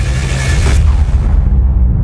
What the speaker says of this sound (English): The explosion causes the entire ceiling above the podium to collapse.